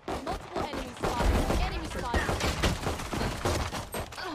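Rapid spammed gunfire in the tactical shooter Valorant, a quick burst of overlapping shots over a few seconds, fairly close and mixed with player chatter and game sounds.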